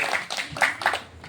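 Several people clap their hands at an informal get-together, the claps coming in short uneven bursts close by, with no talking.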